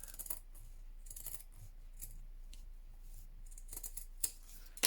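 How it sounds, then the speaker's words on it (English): Scissors snipping a roll of snippet ribbon, a few quiet, crisp cuts and small clicks in an otherwise hushed room, with no talking. "Might snip that off"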